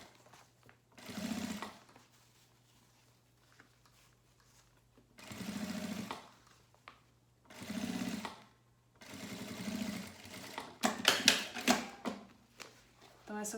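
A sewing machine runs a wide topstitch at stitch setting 5 in several short bursts of rapid, quiet chattering, with pauses between them.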